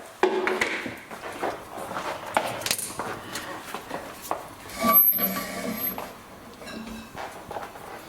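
A non-stick spatula or plastic spoon stirring blueberry oat pudding in a pan makes soft, irregular scraping and tapping at close range, with light clinks of kitchenware.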